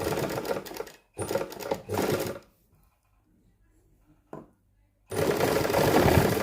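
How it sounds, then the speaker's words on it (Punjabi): A sewing machine runs in close, loud bursts while double-stitching a drawstring waistband, with two quick runs, a long pause and a tiny tap, then another sustained stretch of rapid needle chatter. "ਇਥੋਂ ਆਪਾਂ ਡਬਲ ਸਲਾਈ ਕਰ ਲੈਣੀ ਆ ਇਸ ਤਰ੍ਹਾਂ"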